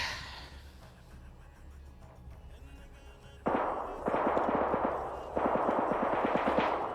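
Gunfire in the video game Arma 3, a quiet lull followed by rapid bursts of automatic fire, loud and sharp, in repeated volleys of closely spaced shots.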